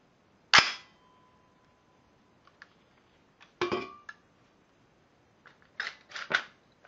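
Live rounds from a Radical Firearms AR-15 7.5 inch pistol: one sharp, loud shot cracks out, followed by fainter metallic clicks and handling clatter and a few more snappy reports in an otherwise quiet space.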